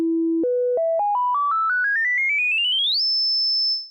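A pure sine tone for sound design, stepping upward in pitch in quick, ever-shorter increments before settling on a high steady note that fades out, clean and synthetic with no voices.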